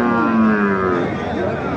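A cow at a busy cattle market lets out a long, loud, close moo that slowly tapers off, with the murmur of the crowd underneath.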